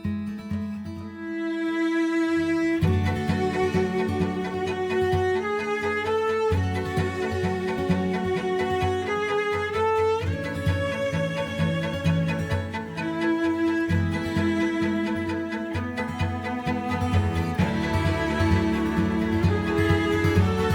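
Soloed acoustic guitars and cellos from a track, layered strummed and sustained bowed parts playing together continuously with shifting chords, full and fairly loud throughout.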